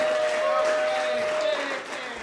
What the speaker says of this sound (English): Keep clapping for Spencer and all the comedians